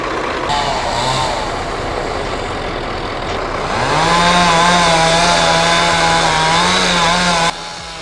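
Chainsaw revving and cutting into trees during tree felling, a loud steady engine whine that rises and holds near, with sharper pitch shifts as the chain bites into wood.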